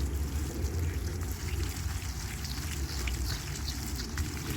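Water poured from a container onto a freshly transplanted pepino melon plant in a garden bed, a steady close stream and splash running without pause for several seconds, no talking.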